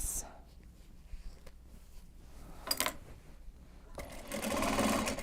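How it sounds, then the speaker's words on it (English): A sewing machine stitches a large box bag, starting with a faint, brief run and a couple of isolated clicks, then picking up near the end into a steady close whirring of stitches, with speech faintly underneath. "We're just sewing,"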